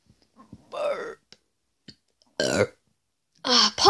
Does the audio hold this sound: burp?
yes